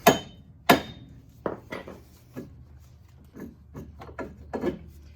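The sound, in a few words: pushing a CV axle into a 2005 Equinox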